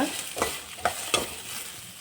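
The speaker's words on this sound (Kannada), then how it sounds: "ಈರುಳ್ಳಿನ ಸ್ವಲ್ಪ ಫ್ರೈ ಮಾಡ್ಕೋಬೇಕು ತುಂಬ ಫ್ರೈ ಮಾಡ್ಕೋಬೇಕು ಅಂತೇನಿಲ್ಲ" Chopped onions frying in a pan, with a steady low sizzle and a few separate scraping stirs of a spatula, heard alone and fairly soft.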